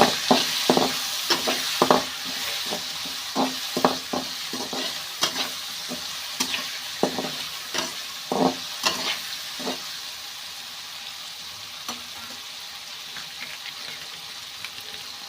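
Food stirred with salt in a frying pan gives a sizzling bed under a rapid run of utensil scrapes and taps that thins out after about ten seconds, leaving a quieter steady fry with no voices.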